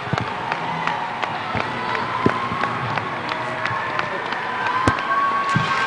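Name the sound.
crowd applauding the seniors at a high school basketball game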